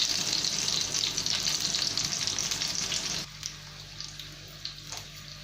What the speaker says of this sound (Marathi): आपल्या मिरच्या छान मस्त शेकल्या जातात.